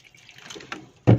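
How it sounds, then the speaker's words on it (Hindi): Water poured over dried plums (aloo bukhara) to soak them, heard as a short, loud splash at the very end after a faint, quiet stretch. "बस इतना पानी डालना है कि जिसमें ये अच्छी तरह से डिप हो जाए।"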